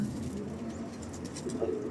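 Pigeons coo softly and close by over a steady low background hum, with faint higher bird chirps mixed in.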